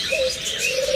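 A pair of creamino opaline pet birds, probably budgerigars, chirps up close in a short, bright burst of warbling calls with no talking.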